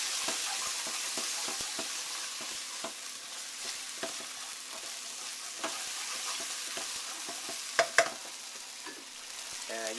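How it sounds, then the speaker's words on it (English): Minced garlic frying in a pan and being stirred: a continuous bright sizzle with frequent light clicks and scrapes of a utensil, close and steady, with a couple of sharper knocks near the end and no voices. "I'm going to add in about a tablespoon of minced garlic"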